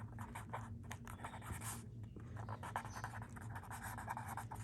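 A pen writes on paper while a math problem is worked out, giving faint continuous scratching strokes close to the microphone over a low steady hum.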